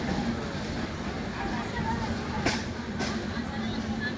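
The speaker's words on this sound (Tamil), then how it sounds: "இந்த ரயில்வே ஸ்டேஷனில் இருந்து இப்போ ட்ரெயின் கிளம்பிடுச்சு" A train pulls out of a major railway junction station in the morning, heard as a steady, broad rumble and hiss with faint voices mixed in.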